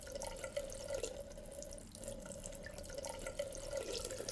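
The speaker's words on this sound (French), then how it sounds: "J'ouvre le robinet. L'eau commence à couler." Water running steadily from a tap into a sink, a faint, even trickle with slight splashing throughout, heard alone at close range.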